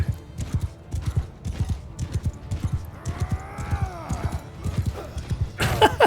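A horse gallops at full speed in the medieval battle game Mount & Blade II Bannerlord, its hooves thudding in a fast, steady rhythm, with a brief whinny and a sharp impact near the end.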